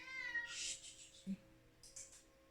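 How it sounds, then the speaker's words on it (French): A domestic cat meowing for attention indoors, two or three short, close meows separated by brief pauses, with a quiet voice speaking faintly in between. "j'ai mon chat qui réclame de l'attention."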